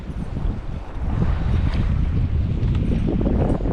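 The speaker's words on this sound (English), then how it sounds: "Holy crap, it's windy." Strong, cold wind gusts through the forest at Squam Lake in Moultonborough, New Hampshire, buffeting the microphone with a loud, steady rush that swells after the first second, with no voices.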